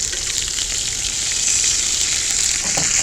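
Hamburger steak sizzling steadily on a hot cast iron griddle over a gas burner, a loud, continuous close-up frying hiss with no talking.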